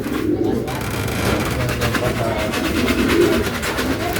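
Pigeons cooing at a racing-pigeon training release in Las Piñas, a steady low cooing murmur from several birds close by over constant background noise, with no talking.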